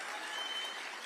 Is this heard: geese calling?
no